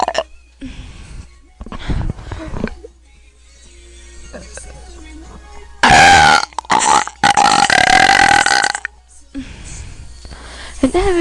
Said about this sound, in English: I'm gonna do really weird burps